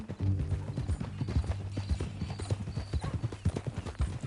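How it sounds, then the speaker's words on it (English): Horse hooves clip-clop in a steady, close, brisk rhythm in the video game Red Dead Redemption 2, with a faint whinny-like tone underneath. "That new horse?"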